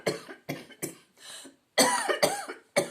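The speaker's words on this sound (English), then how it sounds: "There's absolutely no reason for me to cough." A series of harsh coughs, four in a quick cluster then three louder ones after a brief pause, close and alone.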